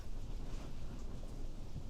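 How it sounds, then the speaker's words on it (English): Steady rain and low thunder rumble in the wartime video game Mius Front, a continuous dense wash with deep rolling bass and no voices. "the rain seems to be clearing up a little bit"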